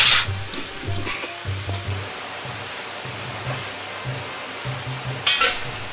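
King oyster mushrooms dusted in potato starch deep-frying in oil heated to about 170°C, giving a steady close sizzle and crackle, with soft low clunks of handling and a brief louder burst near the end.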